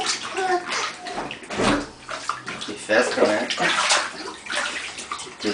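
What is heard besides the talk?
child splashing water in a bathtub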